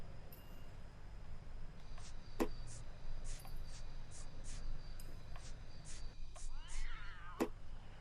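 A single cat meow in the video game LA Noire rises near the end, fairly faint beneath a steady bed of ambient game noise.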